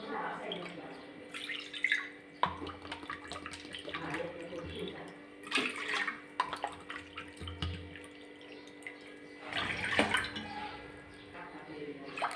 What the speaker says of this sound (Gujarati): તો મેં અહીંયા પાંચ ગણું પાણીને એડ કરી દીધું છે